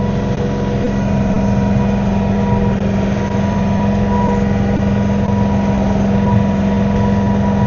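A John Deere tractor with a snow blower attachment drones steadily at a constant engine pitch while clearing snow, a loud unbroken hum with no voices.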